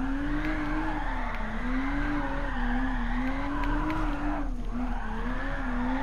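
A car drifting in the racing game GT Sport, a steady engine drone with wavering pitch under a continuous squeal of sliding tires, loud and unbroken for several seconds with a brief dip near the end, with no talk.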